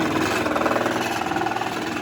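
A drill press bores into wood while making a wine bottle holder, giving a loud, close, rough grinding whir with rapid rhythmic pulsing that runs steadily throughout, with no voices.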